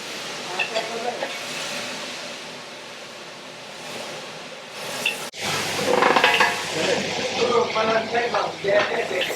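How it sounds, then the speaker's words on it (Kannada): Garlic and ginger paste fries in a large pot for biryani sherwa gravy, a hissing sizzle that turns much louder and busier halfway through, with repeated stirring scrapes. "ಇವೆರಡು ಹಾಕ್ಕೊಂಡು ಈಗ ಫ್ರೈ ಮಾಡ್ತಾ ಇದ್ದಾರೆ"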